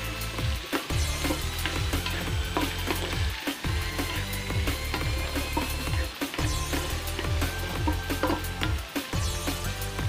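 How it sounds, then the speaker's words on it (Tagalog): Chicken, bean and carrot stir fry being stirred in a hot pan: steady close sizzling with repeated scraping strokes of the utensil, continuous throughout with no talking. "Haluin lang ho natin."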